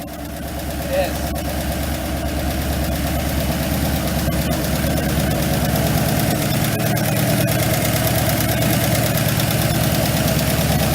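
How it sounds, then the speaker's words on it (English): A Ford Ranger swapped with a 351W V8 running twin turbos and fabricated eBay headers idles nearby, a loud, steady, lumpy rumble with exhaust tone. "I hear exhaust."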